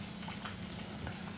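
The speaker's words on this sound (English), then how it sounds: "Check our trout over here. It is sizzling away, isn't it?" Trout fillets frying in a pan in a restaurant kitchen, a soft steady sizzle and crackle at low level, heard alone without talk.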